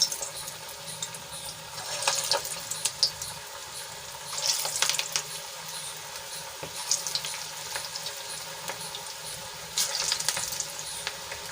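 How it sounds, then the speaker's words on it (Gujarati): Cabbage koftas frying over a low flame in hot oil in a kadai, giving a steady, moderately close crackling sizzle with brief bursts of louder spattering and no talking. "હવે આપણું તેલ ગરમ થઈ ગયું છે તો એમાં આપણે કોફતાને તળી લઈશું"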